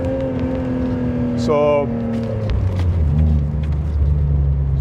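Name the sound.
BMW E46 car engine revving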